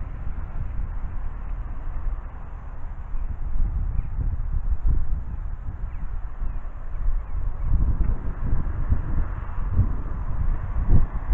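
Wind buffets the microphone outdoors while a drone flies, a continuous low rumbling roar with gusty surges, and faint bird calls sit in the background.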